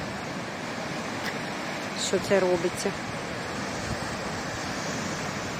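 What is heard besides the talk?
stormy sea waves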